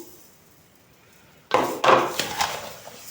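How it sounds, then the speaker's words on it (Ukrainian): Cut apples tumble from one bowl into a larger bowl for apple jam, a sudden clattering rush of fruit and dish contact after a quiet start, followed by a few softer knocks and settling thuds. "Висипаємо у більшу миску."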